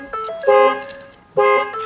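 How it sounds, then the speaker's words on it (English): Two short electronic chirps from a Ford F-150 truck's remote start system, clear and close, separated by a brief pause. "You'll hear it chirp 3 times, just like that."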